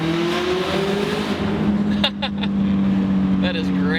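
A turbocharged Scion FRS with a 67mm turbo accelerates hard, its engine droning steadily with a rising tone, a few brief sharp chirps partway through, and a voice talking over it.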